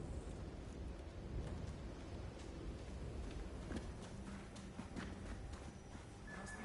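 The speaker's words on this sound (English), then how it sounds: "An incoming storm." In the Unknown 9: Awakening video game, an incoming storm brings a steady hiss of rain and low, faint rumbles of thunder, soft and continuous with no talking.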